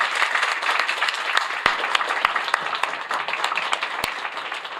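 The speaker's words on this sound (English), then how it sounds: "You can clap for that." Audience applause at a hospital event in Queens, New York: steady, moderately loud clapping from a crowd, continuous throughout with a few sharper individual claps standing out.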